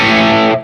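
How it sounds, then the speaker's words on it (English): Electric guitar through an amp on its crunch channel with volume up and gain low, giving a thick power-amp-distorted chord that sustains loudly and then cuts off and fades at the end. "I'm guessing that's mainly power amp distortion"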